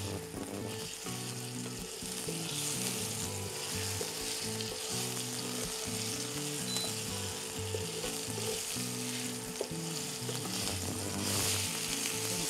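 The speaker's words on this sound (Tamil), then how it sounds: "ஸோ ஓரளவுக்கு வந்து இந்த மீனை வந்து லேசாக வறுத்துக்கலாம்." Fish fries lightly in a pan with a continuous, close sizzle and occasional stirring sounds, over a bed of background music.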